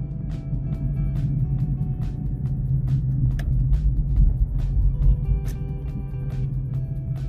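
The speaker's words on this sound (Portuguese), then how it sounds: "Só esse carro passar aqui." A car passes on a wide multi-lane city avenue in Fortaleza, a steady low rumble swelling near the middle of the clip and fading again, with light ticking noises on top.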